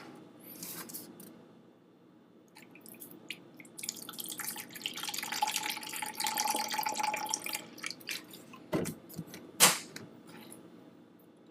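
Soy sauce poured into a measuring cup, a soft liquid trickle building over several seconds in a quiet kitchen, then a couple of sharp clicks and taps near the end as a container is handled.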